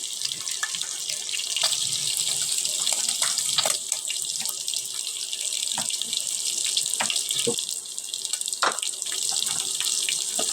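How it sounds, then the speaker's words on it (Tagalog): Water pours steadily in a home kitchen while dinner is cooked, a continuous loud rush with a few small splashes and drips and no talking. "Gamit natin ang tubig. Buhos."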